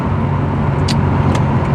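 A Subaru Impreza WRX STI fitted with coilovers pulls out to overtake, its engine droning steadily at close range from inside the car with a rising strain, no one speaking.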